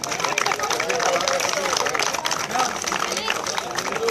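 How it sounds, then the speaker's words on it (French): An audience at an 80th anniversary ceremony for the JSF football club applauds in a room. The clapping is steady and dense, with crowd murmur mixed in, and it lasts throughout. "On peut l'applaudir aussi."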